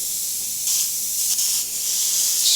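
Createx cobalt blue paint sprayed through an airbrush makes a steady, close hiss with brief swells and dips in strength, with no talking.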